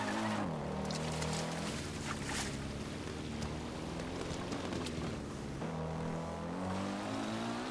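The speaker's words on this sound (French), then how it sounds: "Bon, on va faire un tour de moto." The motorcycle in the video game Zelda Breath of the Wild drones with a steady engine hum that rises and falls in pitch, running continuously under a rushing background.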